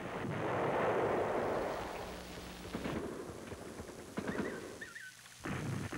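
Heavy, rumbling Marine artillery fire from guns at the Chu Lai base, loud, with a sustained booming roar early on and further muffled blasts and rumble following, no voices.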